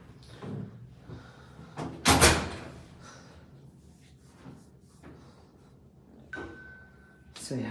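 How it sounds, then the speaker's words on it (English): A hotel room door at the Park MGM in Las Vegas swings shut with one loud, close thud, followed later by softer handling noises and a brief tone amid quiet room sounds. "Okay, shut the door."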